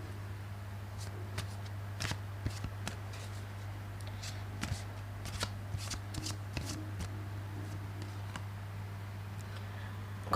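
Tarot cards shuffled by hand at close range, a steady run of soft riffling flicks and sharp snaps over a constant low electrical hum, with no speech.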